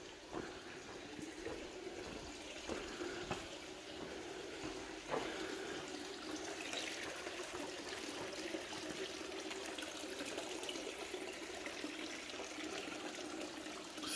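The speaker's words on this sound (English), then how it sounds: "Now I can show you the source of water." Water flows steadily at a spring at the Church of the Multiplication, a soft, continuous trickle and splash heard fairly faintly, with no talking.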